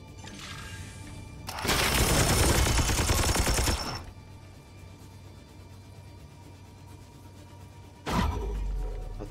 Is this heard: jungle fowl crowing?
no